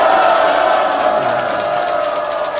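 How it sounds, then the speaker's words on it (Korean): An audience at a lecture hall cheers loudly and steadily, a dense roar of many voices sustained throughout without pause. "박수 소리만 나면 안 돼요. 환호 소리까지."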